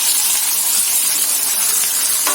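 Curry leaves, green chillies and fenugreek seeds stirred in a hot oiled pan for a Telugu ridge gourd curry, a steady close sizzle and hiss with faint scraping, no talk.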